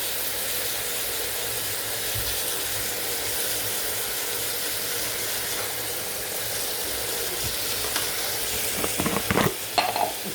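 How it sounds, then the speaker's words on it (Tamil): Onion and tomato frying in a pan for a mutton and spinach gravy, a steady close sizzle with stirring, and a few sharper scrapes and clatters near the end. "வெங்காயம் தக்காளி போட்டுக்கலாம்."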